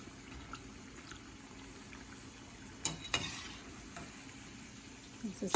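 Masala vada fry in hot oil with a soft, continuous sizzle and bubbling, punctuated by a few sharp clinks and scrapes as they are flipped.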